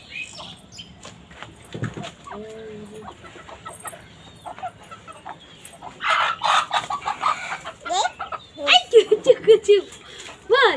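Chickens cluck and squawk nearby in uneven bursts, growing louder and busier toward the end, with people talking over the birds.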